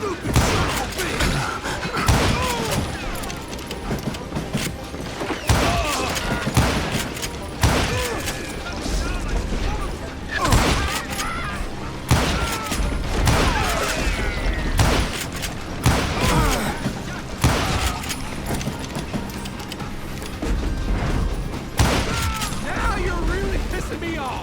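Repeated gunfire and heavy impacts from a Wild West shooter game, the Call of Juarez: Gunslinger Jesse James finale, loud and dense throughout, with bursts of shots and booms over a continuous game soundtrack.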